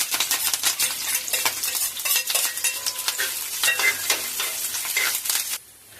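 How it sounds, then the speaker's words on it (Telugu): Onion and curry leaves frying in hot oil for a mixed vegetable curry, with brisk close spatula scrapes against the pan over a crackling sizzle that cuts off abruptly near the end. "ఆయిల్ వేడెక్కాక ఒక ఉల్లిపాయని కొద్దిగా కరివేపాకుని వేసుకొని ఫ్రై చేసుకోవాలి"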